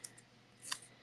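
Scissors snip through craft foam in a single quick cut, close and quiet, with a faint click before it.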